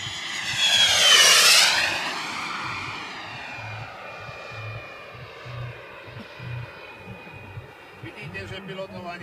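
A T-45 Goshawk military jet at Sliač airport roars loudly as it passes close by, the engine whine swelling and sweeping in pitch before fading into a steady distant drone, with a voice talking underneath.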